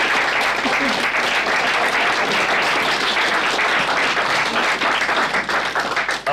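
A lecture-hall audience gives a volunteer a steady round of applause, dense loud clapping that fills the room for several seconds and thins slightly at the end, with a brief spoken word near the start.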